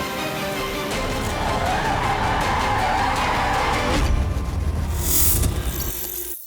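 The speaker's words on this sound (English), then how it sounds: "This is a drift beast like I've never ridden before." An electric car drifting hard, tires skidding and scrubbing continuously with a loud, sustained roar and a rising squeal toward the end, no talking over it.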